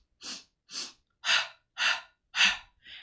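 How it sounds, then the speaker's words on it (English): Five steady, evenly spaced breaths, each a loud airy rush, are taken close to the microphone during the Pilates hundreds exercise, with a sixth softer breath starting at the end and silence between them. "So if you were breathing in 3s, it'd be inhale 2,"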